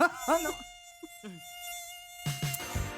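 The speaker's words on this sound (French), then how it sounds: "la triste séquence dite de la partouze mortelle de moustiques" Mosquitoes buzz in a radio segment about a deadly mosquito mating swarm, a steady high whine running throughout with a few brief sounds over it.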